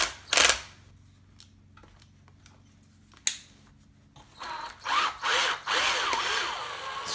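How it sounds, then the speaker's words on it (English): Power screwdriver with an adjustable torque setting, used on a Traxxas Slash 2WD monster truck with a broken bulkhead, gives short bursts near the start and middle, then a run of whirring, ratcheting drive at close range with no talk. "The screwdriver has an adjustable torque setting here"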